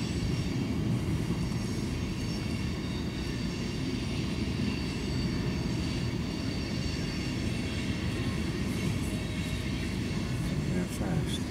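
Train rumbling steadily past at close range, a dense continuous roar of wheels and cars with faint squeal, loud throughout without a break.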